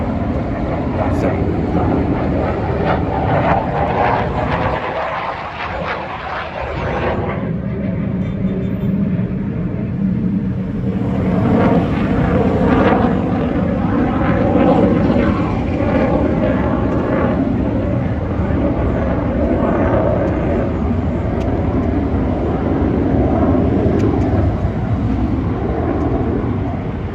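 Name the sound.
jet aircraft flying near a Navy air station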